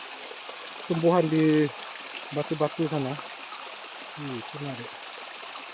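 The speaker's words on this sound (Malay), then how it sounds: "Kita lihat kembangan air terjun ini." A small, not very tall waterfall, Tak Abek, tumbles over plant-covered rocks. It makes a steady, even rushing hiss throughout, and someone speaks briefly over it.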